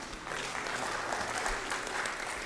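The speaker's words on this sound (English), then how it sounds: "Everyone give this guy a round of applause" Soft, fairly distant applause from a church congregation, a continuous even patter of many hands clapping at low volume.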